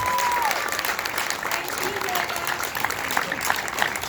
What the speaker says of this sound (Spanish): Un aplauso porque organizaron todo esto.